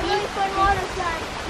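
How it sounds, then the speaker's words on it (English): A waterfall in Puerto Rico gives a steady broadband rush of falling water, close and loud, while voices talk excitedly over it. "There's a waterfall!"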